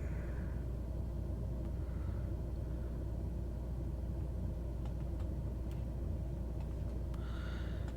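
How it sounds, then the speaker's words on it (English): King Air 350 twin turboprop engines at takeoff power in Microsoft Flight Simulator 2020, a steady, dense low roar with a constant rumble that holds evenly throughout, with no talking. "how hard you push these little turboprop engines on takeoff"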